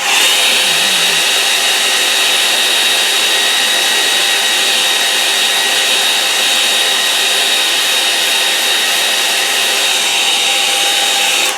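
A hair dryer blows steadily and loudly at close range, drying a lakeside watercolour painting with an unbroken whirring hiss for the whole stretch, no voices over it.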